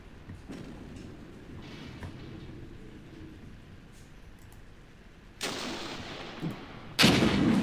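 Explosive RPG-7 launch and gunfire in the Armored Brigade war game, with two loud broadband blasts near the end over a steady low rumble of distant firing.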